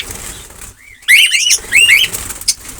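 Cockatiels being released burst into loud, close flapping of wings, a quick flurry of wingbeats mixed with bright chirps and calls from the birds.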